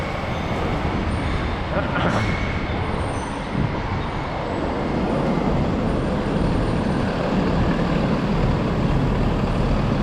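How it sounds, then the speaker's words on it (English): Box truck rumbling close behind a bicycle in a protected bike lane on a New York City street, a loud continuous engine drone amid city traffic, with a brief hiss partway through. "We got a box truck right behind us."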